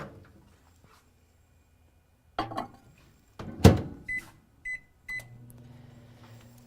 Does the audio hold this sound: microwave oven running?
yes